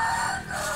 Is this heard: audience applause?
no